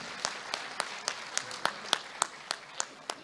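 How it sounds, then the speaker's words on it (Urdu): Sparse, evenly spaced claps at an award ceremony, a few sharp hand claps in a steady rhythm, fairly faint and without voices. "زندہ باد، بھرپور تالیاں۔"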